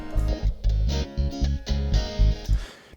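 Thick, heavily colored bass tones play in short repeated phrases through the Airwindows BassDrive bass preamp plugin, boomy and saturated with a gritty preamp character, loud and upfront with no talking.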